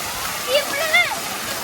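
Water pours down like steady rain at a pool at a holiday campsite resort, making a continuous broadband hiss. Faint voices and whistle-like tones briefly rise over it.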